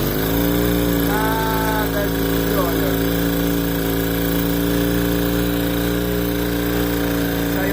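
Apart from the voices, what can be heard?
motorcycle engine running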